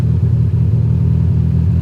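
Honda Prelude engine idling roughly, a close, steady low rumble with a slightly uneven, pulsing beat and no voices.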